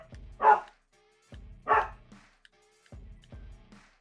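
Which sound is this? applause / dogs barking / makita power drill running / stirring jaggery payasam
dogs barking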